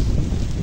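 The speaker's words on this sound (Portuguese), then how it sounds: "tá muito vento, não sei nem como é que vai sair minha voz aqui" Strong outdoor wind buffets the microphone in a steady loud roar of low rumble with no break, close and alone.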